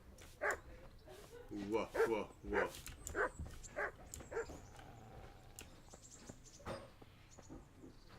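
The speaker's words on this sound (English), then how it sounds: "Doggy." A dog in the medieval video game Kingdom Come: Deliverance lets out a series of short yips, barks and whimpers in close bursts, with someone speaking briefly alongside.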